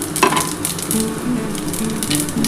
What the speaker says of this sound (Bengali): দেখো আমার তেলটা গরম হয়ে গেছে আমি অল্প করে একটু গোটা জিরে দিয়ে দিলাম